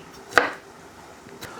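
A knife cuts an orange pepper into chunky pieces on a board, one sharp close chop followed by a second, softer one about a second later.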